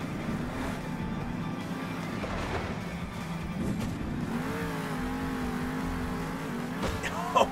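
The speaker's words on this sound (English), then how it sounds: "Northern Nightmare is gonna be racing several under other monster trucks to finish this race first and hit every single waypoint" Several monster trucks race in Monster Jam Steel Titans 2, their engines droning and revving steadily throughout, with pitch rising and falling as they accelerate and a brief louder burst near the end.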